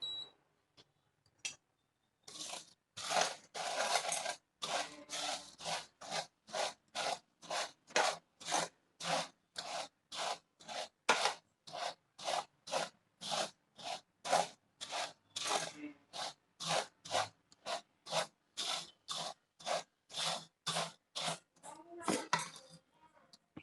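Puffed rice is mixed by hand with jaggery syrup for pori urundai, giving a long series of rhythmic, crisp rustling scrunches, close and steady, repeating roughly every half second.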